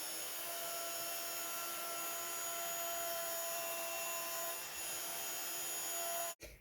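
Heat tool blowing steadily on copper embossing powder over a card, a continuous airy whir with a faint hum that runs unbroken before cutting off abruptly near the end.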